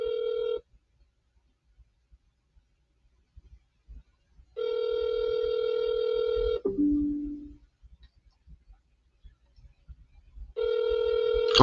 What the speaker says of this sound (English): Pick up the phone, girl.